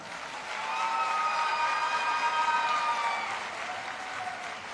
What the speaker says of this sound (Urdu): تو آپ سب کی محبت بھری تالیوں میں